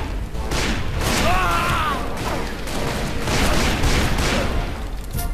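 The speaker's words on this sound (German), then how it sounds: "Explosion." An explosion from the Western shooter Call of Juarez: Bound in Blood booms amid a loud, dense barrage of gunfire and crashing battle noise that rolls on without pause.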